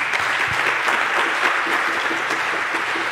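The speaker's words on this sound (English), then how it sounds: "Give a round of applause." Audience applause after a talk on threat modeling mechanical locking systems, a steady, dense crowd of hands clapping throughout, close and loud without a break.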